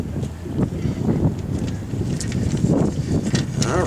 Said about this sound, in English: fighting the wind here